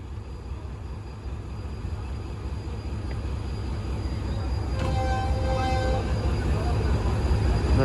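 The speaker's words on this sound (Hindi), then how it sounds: "डिपार्चर विसल हो रहा है अब ईद स्पेशल ट्रेन का ZCU30 6314 के साथ।" An Eid special train departs Karachi Cantt railway station, its steady rumble building gradually while a brief tonal whistle sounds midway.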